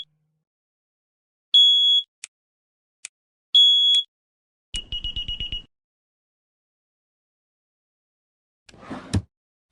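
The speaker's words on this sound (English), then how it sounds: "Crap, the alarm's going off." Beeping alarm tones sound in the horror video game Nobodies: Silent Blood, two sustained beeps followed by a quick run of short pulses, clear and close, separated by silence and a few clicks.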